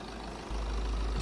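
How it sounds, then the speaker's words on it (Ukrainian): A low, steady diesel engine of a 2023 BMW 420d M Sport idles close by, its hum even and unbroken, growing a bit fuller partway through. "Працює бездоганно мотор, просто як годинник."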